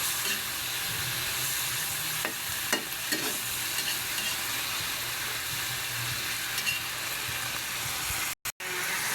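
Vegetables stirred in a hot pan: a steady loud sizzle and hiss runs throughout, with a few scraping strokes of the utensil and a brief dropout near the end.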